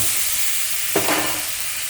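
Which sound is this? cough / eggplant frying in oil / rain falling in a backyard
eggplant frying in oil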